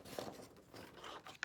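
Scissors or a blade cutting through thin craft material such as paper, giving short scratchy rasps in two brief bursts at close range, with no talking.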